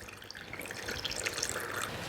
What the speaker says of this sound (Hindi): इसके लिए हमें इसमें गर्म पानी भरना है